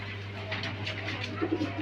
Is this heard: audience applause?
no